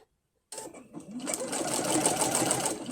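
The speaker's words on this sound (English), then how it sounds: "I'm going to sew very close to that edge" Sewing machine fitted with a walking foot stitching quilt binding close to the edge, starting after a half-second of silence, then a steady, fast, continuous mechanical hum and clatter running close and loud to the end.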